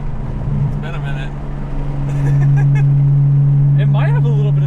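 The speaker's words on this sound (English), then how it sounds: "This exhaust sounds terrible." Deep, droning exhaust rumble from a single-turbo BMW E92 335i growing louder as the engine revs, with a person talking briefly over it.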